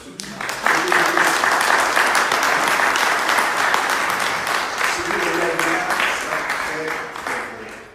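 Sustained applause from a sizable church congregation, dense and even, swelling quickly and holding steady for several seconds before starting to taper.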